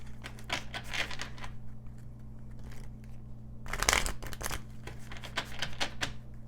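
Tarot cards being drawn and shuffled, heard close but quietly as crisp flicks and rustling snaps in bursts, with a louder flurry of shuffling midway and no talking.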